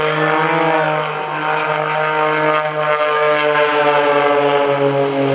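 An aerobatic full-pitch biplane and an MX2 aircraft fly at an airshow, producing a loud, sustained propeller-engine drone with a steady harmonic buzz and slight pitch shifts.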